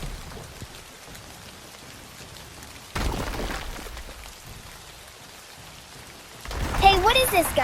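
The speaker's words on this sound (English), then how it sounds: "It's raining." Rain falls steadily in an animated scene, a soft patter that swells louder in a couple of bursts, with faint voices in the background.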